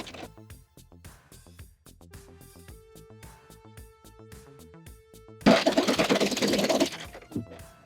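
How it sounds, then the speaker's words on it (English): A serger overlocks the edges of a summer dress sleeve cuff, a steady mechanical whir that builds into a loud, dense burst of rapid stitching near the end before easing off, heard up close with no talking. "now I'm gonna serge all the layers together"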